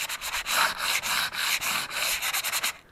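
Sandpaper rubbed by hand over a fiberglass rib on a small boat, a close, steady scratchy rasp in quick back-and-forth strokes, continuous for a few seconds with no talking.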